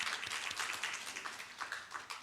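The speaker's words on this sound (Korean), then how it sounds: "박수 한번 주세요" A congregation claps during a Korean Thanksgiving Sunday church service, soft, somewhat distant applause with an uneven rhythm of individual claps, no speech.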